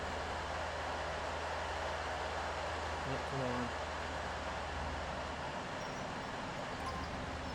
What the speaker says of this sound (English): this train can accelerate pretty fast, but the brakes, not very good